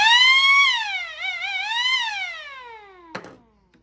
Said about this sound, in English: you'll notice the siren is much louder on this mode